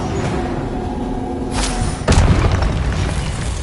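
A Confringo fire spell goes off in the Hogwarts Legacy video game, giving two deep booming blasts about half a second apart over a steady rumble of in-game ambience, with no talking.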